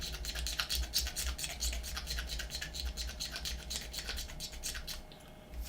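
Small hand tools scrape ejector pin marks off plastic model kit parts, giving a close, continuous quick scratching rasp with rapid repeated strokes and no talking.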